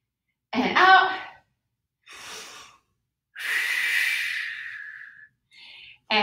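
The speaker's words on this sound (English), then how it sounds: "Breathe in and out." A person breathes during a standing Pilates workout. A short voiced breath comes first, then a softer breath, then a long, drawn-out exhale that tapers away, and a brief final breath ends it, each separated by silence.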